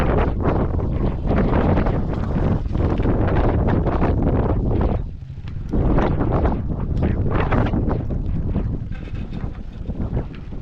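Strong monsoon wind roars across a bay walk in Calamba during habagat weather, loud continuous gusting buffeting the microphone with one brief lull midway.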